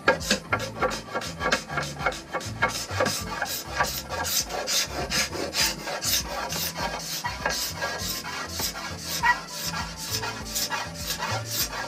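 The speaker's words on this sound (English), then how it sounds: "That's filing, and then I'm going to use the scraper here." A steel scraper works a yew longbow stave during roughing out, giving continuous rhythmic rasping strokes, close and steady with no pauses and no voices.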